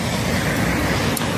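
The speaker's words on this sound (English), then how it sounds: "God, the traffic in this city is ridiculous. So loud" City traffic: a dense, continuous roar of cars and road noise, loud and close, steady throughout with no voices.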